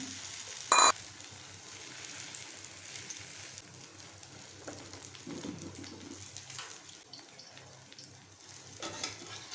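A bread omelette with egg fries in a pan, giving a soft, steady sizzle heard close and fairly quiet, with a brief sharp clatter near the start and no talking.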